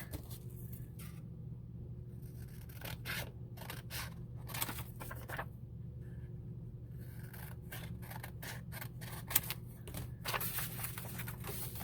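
Scissors cut through paper for an altered book in a series of close, crisp snipping bursts, some quick and repeated, others spaced apart, with no talking.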